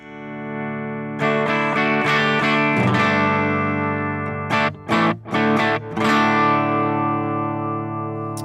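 A clean electric guitar rings out through a Headrush amp model, sustained chords with a short gap of choppy strums midway, loud and up close, no voices.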